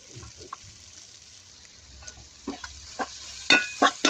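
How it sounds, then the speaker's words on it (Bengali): Chopped garlic frying in a pan for a spicy chicken masala, with a low sizzle under sharp spoon scrapes and clacks that grow louder and more frequent toward the end. "এটা ভাজা ভাজা হয়ে গেছে। এখন এটায় আমি রসুন কুচি দিয়ে দেবো।"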